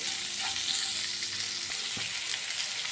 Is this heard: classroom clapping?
no